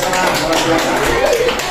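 A fifth-grade class claps for student groups in a quick burst of hand clapping in a classroom, mixed with children's and a teacher's voices.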